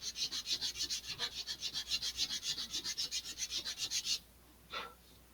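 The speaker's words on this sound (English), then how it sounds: "I'm going to lower the angle at which I'm sanding here a little bit" Sanding the wooden tip of an Estes Black Brant XII model rocket: a fast, steady run of rhythmic rasping strokes, close and clear, then a pause and one last short stroke.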